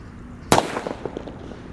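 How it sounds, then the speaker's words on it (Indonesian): One loud, sharp blast from a thunder firecracker rings out, then echoes and small crackles trail off over the next second. "Lanjut kita akan menyalakan mercon petir guys."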